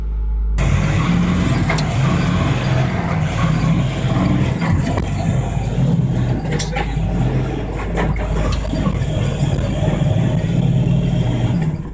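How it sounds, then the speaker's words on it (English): Truck pulling away with its mid-range engine accelerating, caught on a trucker's dashcam; a loud, steady engine roar runs throughout with a low rumble, while a voice speaks over it. "The truck drivers take this opportunity to try and drive away."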